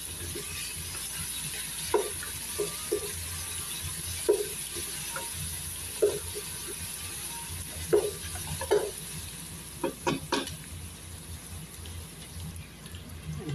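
Onion, garlic and whole spices such as cardamom, cinnamon stick and bay leaves sautéing in a pan for an Arabic-style meat dish, a steady low sizzle broken by scattered stirring clacks and scrapes, with no talking.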